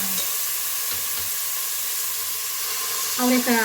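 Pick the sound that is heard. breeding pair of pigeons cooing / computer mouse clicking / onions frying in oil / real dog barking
onions frying in oil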